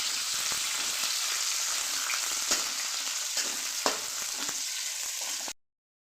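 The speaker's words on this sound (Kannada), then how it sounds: "ಈರುಳ್ಳಿ ಸ್ವಲ್ಪ ಫ್ರೈ ಆಗಲಿ." Onion sizzling steadily in a pan with dried red chilli and ginger, a continuous close crackle with a few sharp pops and stirring clinks, then cutting off abruptly near the end.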